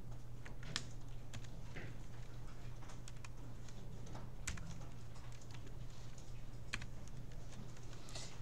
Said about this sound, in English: you can type along with me here